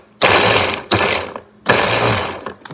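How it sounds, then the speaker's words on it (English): A kitchen grinder whirring through ingredients for Greek meatballs in three loud, close bursts, each starting abruptly and stopping with short pauses between. "Grind that up really good."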